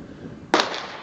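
A single shotgun blast at a clay pigeon range at an outdoor gun club. One sharp, loud report cracks out midway after quiet background and trails off into a short echo.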